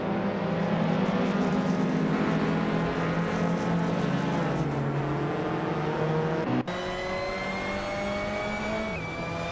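Several video game race car engines, including a 2014 Suzuki Swift and a 1999 Honda Civic, drone and whine with steady rising pitches, an abrupt shift partway through as engine tones change, sustained and fairly loud.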